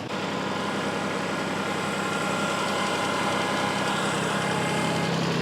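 A vehicle engine runs steadily while backing up toward a trailer with a mini hay baler, a loud continuous rumbling drone with no pauses, close by and unchanging throughout.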